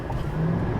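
A 2024 Chevy Silverado 2500 ZR2 Bison heavy-duty pickup accelerates at half throttle, its engine giving a steady, fairly loud low rumble heard from inside the cab.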